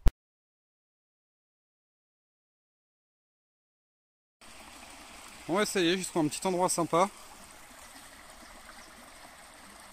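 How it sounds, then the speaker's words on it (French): A river flows past a forest spot with a soft, steady rush in the background, while someone speaks briefly over it. "Avec la rivière qui passe."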